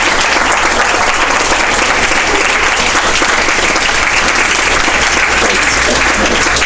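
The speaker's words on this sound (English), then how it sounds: "let's give them another round of applause" Loud, sustained audience applause at an evening event, a thick continuous roar of many hands clapping close and steady throughout, with no talking.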